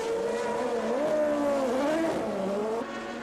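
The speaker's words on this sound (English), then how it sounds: "The new lightweight Tolman was only 11 tons instead of 12 and spun off as a consequence." A lightweight 1982 Toleman Formula 1 car spins off the circuit. The engine note wavers and warbles as revs rise and fall with a touch of tyre scrub, fairly near and fading toward the end, with no talk.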